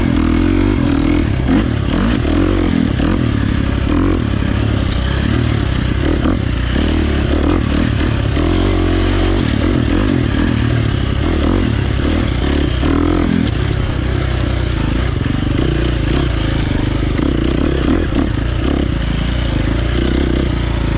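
A KTM 350 XC-F motorcycle engine running on a tuned Vortex ECU map, idling a little high with a steady close-up low thrum and some mechanical clatter throughout.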